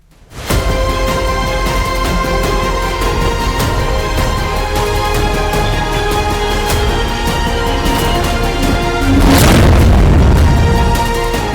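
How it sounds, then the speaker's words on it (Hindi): Live-fire explosions from Indian armed forces at the Pokhran firing range, a loud sustained roar of blasts and rumbling that swells into a heavier booming burst near the end, with no talk. "पोखरण फायरिंग रेंज में अपनी युद्धक और प्रहार क्षमताओं का जोरदार प्रदर्शन किया है।"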